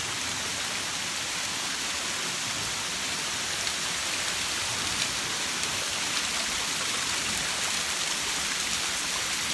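Steady, dense rain falling outdoors, a continuous hiss of drops on surfaces with no talking, even in level throughout.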